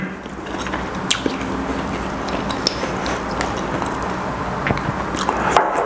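Close-up crunching and chewing as someone bites into crispy homemade fried chicken, with irregular crackly crunches over several seconds.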